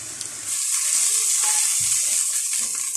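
Onions fry in ghee in a pan, giving a steady, close sizzle and crackle that runs throughout with no talking.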